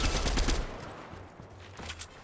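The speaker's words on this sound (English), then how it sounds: "Literally, this gun shreds people at mid-range." MK7 assault rifle fire in Fortnite, a rapid burst of close shots in the first half-second, then fading scattered firing and quieter game noise.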